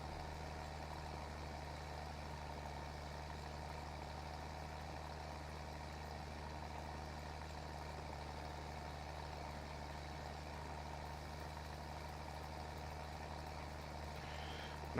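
Steady low drone of a tractor engine in a farming video game, running continuously at an even pitch, faint and unchanging with no talk over it.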